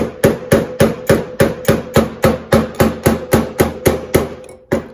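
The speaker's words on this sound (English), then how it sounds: "I'm going to tap around the stud." A hammer taps steadily around a stud on a hot rod body panel to work out a dent, about fifteen evenly spaced sharp metallic knocks, close and loud, with no talking.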